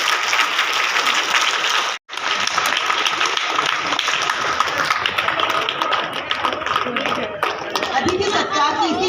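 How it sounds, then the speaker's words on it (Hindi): Schoolchildren clap together at a Republic Day celebration in Lohagal, Ajmer, a loud sustained burst of applause that stops abruptly for a moment, then resumes just as dense and keeps going, with voices mixed in. "मैं एक बार जोर से बालक तालियां बजाए"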